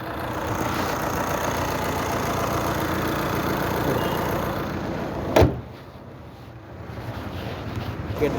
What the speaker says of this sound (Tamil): இன்ஜின் சவுண்டு, இன்ஜின் காட்டுங்க.